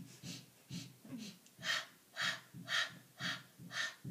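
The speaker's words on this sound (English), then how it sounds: "there's a special type of breathing that we do called pulsing breath" Pilates pulsing breath, five short inhales followed by five stronger exhales, close and rhythmic with steady spacing and no speech.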